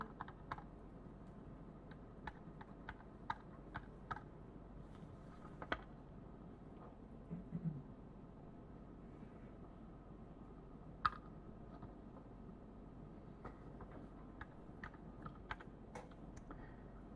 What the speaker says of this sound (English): So I'm going to use the keyboard.